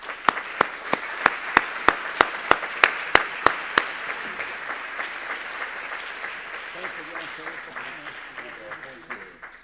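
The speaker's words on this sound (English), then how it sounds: "it's nice that you're still applauding, and I appreciate that" Audience applause for Senator Sheldon Whitehouse at the 2014 America Honors Recovery event, opening with a dozen sharp, evenly spaced loud claps before settling into steady, dense clapping that slowly fades.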